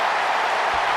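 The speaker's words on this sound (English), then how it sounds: "this exchange is whipping this capacity crowd into a frenzy" Capacity crowd cheering in the WWE 2K wrestling video game, a dense, steady roar of many voices holding at an even level throughout the short moment.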